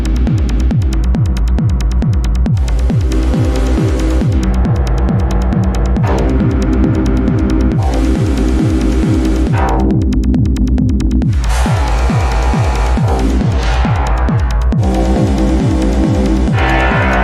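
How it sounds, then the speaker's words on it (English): A granular synthesizer driven by physics-based generative modulation churns out loud, rhythmic throbbing pulses of grainy tone, with bursts of bright texture swelling and cutting out and levels lurching unevenly throughout, no voices. "this interesting kind of physics-based modulation of a granular synthesizer"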